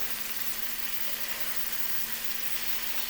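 Salmon fillets frying in a skillet, a steady close hiss and crackle of hot oil with no talk.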